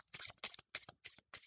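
A deck of playing cards gets an overhand shuffle during a card trick tutorial, making five close, crisp riffling bursts in an even rhythm with short gaps between them.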